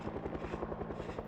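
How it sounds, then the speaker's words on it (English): A helicopter in the video game Project Zomboid, its rotor beating in a steady, rapid rhythmic thump that stays loud and close throughout, with no voices. "the helicopter gets so loud"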